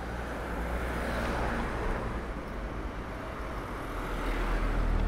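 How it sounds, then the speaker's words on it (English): Cars passing on a street give a steady, broad roadway rumble that swells slightly toward the end, with no clear breaks and no talking. "let these cars pass"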